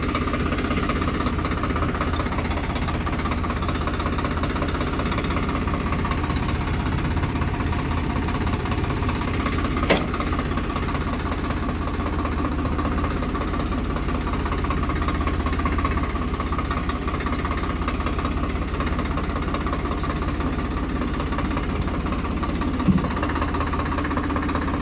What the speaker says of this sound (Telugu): ట్రాక్టర్ రన్నింగ్ అయితే చూద్దాము.